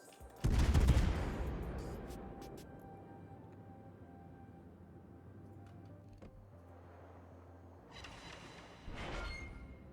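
Heavy naval gunfire from the German battleship Scharnhorst in World of Warships, a loud booming salvo that rumbles and decays over several seconds, followed later by a second, sharper burst of shots.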